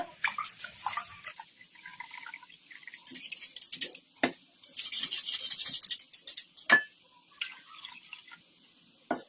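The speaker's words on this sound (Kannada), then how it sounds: "ಈಗ ಇದಕ್ಕೆ ನೀರು ಹಾಕೊಂಡ್ಬಿಡೋಣ ಒಂದ್ ಸ್ವಲ್ಪ." Water splashes and trickles into curd in a container in short bursts, with a longer pouring stretch midway and a few drips and clinks around it, making buttermilk.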